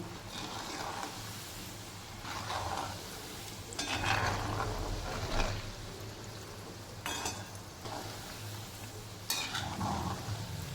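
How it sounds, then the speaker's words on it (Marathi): Shankarpali frying in a hot kadhai give a steady low sizzle, while a spoon stirs them with repeated scraping strokes at irregular intervals, close by and moderately quiet. "हलवताना याला खालवून वरून व्यवस्थित हलवत राहायचं म्हणजे दोन्ही साईडनी शंकरपाळ्या व्यवस्थित शिजून निघतात"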